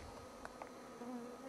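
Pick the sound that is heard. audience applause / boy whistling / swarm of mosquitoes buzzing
swarm of mosquitoes buzzing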